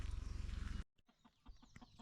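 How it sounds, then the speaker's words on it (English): A rooster held in a cage on a Hawaii homestead makes a brief loud clucking squawk and flutter at the start, then a sudden stop followed by soft scattered rustles and knocks. "Okay, so I got the cage all set up and the rooster's in here."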